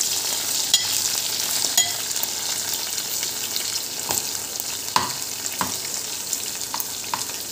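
Ivy gourds frying in hot oil, a bright, steady sizzle close by, broken by occasional clicks and scrapes of stirring.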